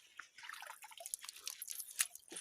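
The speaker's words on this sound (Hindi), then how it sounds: "स्रोत से पानी आ रहा है, वो सामने जंगल से ऐसे ही स्रोतों से पानी आता है।" Spring water trickles out of a forest source beside a remote footpath, a faint, irregular patter of drips and splashes, close by with no voices.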